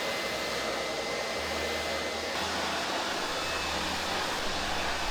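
A hair dryer blows steadily while drying hair, giving a constant close airy roar with a low motor hum that shifts slightly in pitch partway through.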